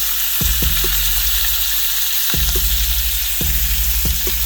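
Applewood smoked bacon strips fry in a pan with a loud, constant sizzle. A low hum carries sharp, repeated onsets.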